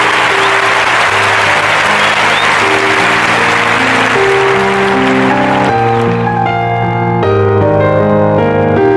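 Crowd applause greets the announcement of a school event's King and Queen, a dense wash of clapping that stays steady and loud throughout while sustained musical tones rise underneath.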